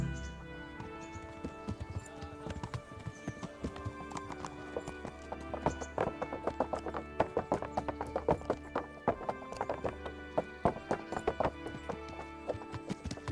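Horse hooves clip-clop in a quick galloping rhythm through the video game Kingdom Come: Deliverance, steady and fairly close across the whole stretch, with occasional snorts and no talk.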